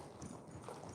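A horse trots in a circle in a riding arena, its hoof beats a soft, quick clip-clop under a faint, even background noise.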